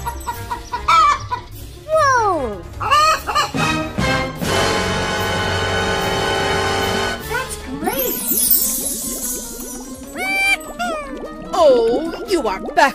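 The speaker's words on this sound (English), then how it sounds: "Chicken." Busy clucking and a rooster's crow mixed with other bird and animal calls, loud and layered, with a harsh noisy stretch in the middle.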